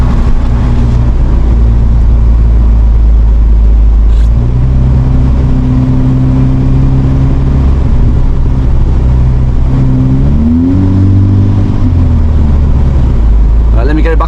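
A tuned VW Golf GTI drives loud and close, engine droning and rising through revs, with the gear shifts and exhaust burble carrying under occasional talk inside the car; distinct pops and bangs are not clearly separated.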